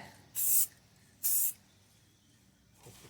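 Spray paint applied as a first coat to the bumper trim of a 2011 Subaru Outback: two short, close, hissing bursts about a second apart, then a fainter brief puff at the end.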